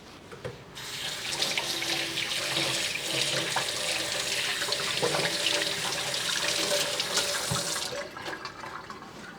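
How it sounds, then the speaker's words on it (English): Hands being washed under a running kitchen tap, a steady close splash of water that starts abruptly, continues evenly for several seconds, and cuts off near the end, with no talking. "Let me wash my hands real quick."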